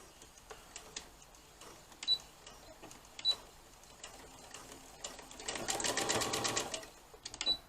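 Sewing machine stitching fabric inside a narrow seam allowance: scattered clicks and short taps, then a close, rapid mechanical whir of stitching for a couple of seconds before it stops.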